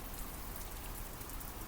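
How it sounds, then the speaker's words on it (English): Steady, dense rain pours down as a sound effect in a detective audio drama, a continuous even hiss with no voices. "The rain now thunders around him."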